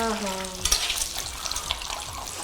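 Eggs fry and sizzle in a pan for a shrimp and egg curry, with a crackling hiss and stirring scrapes. A short sung or spoken tone opens it before the frying continues close and steady.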